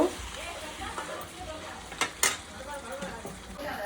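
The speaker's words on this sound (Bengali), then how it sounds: "এবার আমরা লাড়িয়ে নিচ্ছি ভালো করে" Mutton curry stirred in a pan, soft frying sizzle with faint scraping and a couple of metal clinks, quiet and close, with a voice speaking over it.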